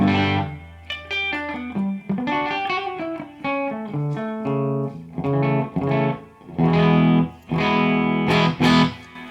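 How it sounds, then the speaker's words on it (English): Distorted electric guitar plays a series of chords and single notes through a Joyo Atmosphere reverb pedal, each ringing out with a washy reverb tail between phrases. "Let's turn on the Joyo Aquarius. This is the, or not the Aquarius, the atmosphere pedal. This is the reverb."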